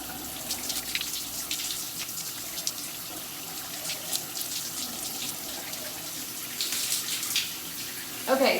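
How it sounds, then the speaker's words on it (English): Water runs steadily and close by from a shower or tap as Monat shampoo is rinsed out of hair, a continuous broadband splashing hiss that swells slightly near the end. "I'm going to rinse it out"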